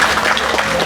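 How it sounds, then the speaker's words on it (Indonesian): Audience clapping at a Balinese drama gong performance, a short dense burst of many hands applauding together, fairly loud and close. "Tepuk tangan dengan sama-sama."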